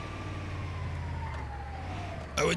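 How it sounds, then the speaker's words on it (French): A siren wails steadily with a slowly falling tone over a low engine rumble, ending in a sudden louder burst. "ça fait joujou avec la sirène"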